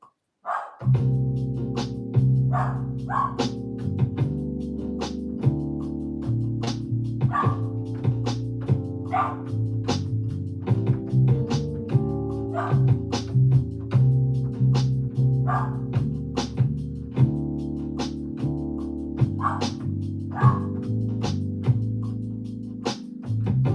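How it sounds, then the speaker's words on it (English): A dog barks repeatedly in short, sharp bursts over a loud, continuous beat-driven music track made on an SP-404MKII sampler, with the barks spread throughout and partly buried in the mix. "Excuse the dog bark."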